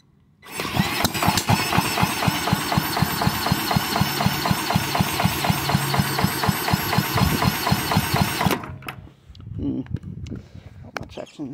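A Villiers Mark 10 side valve engine cranks in a steady rapid rhythm for about eight seconds, then stops; a few faint irregular pops follow close by.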